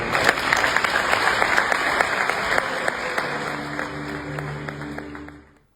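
A studio audience on a Macedonian TV talk show applauds in a dense, sustained burst of clapping that thins out and fades away at the end.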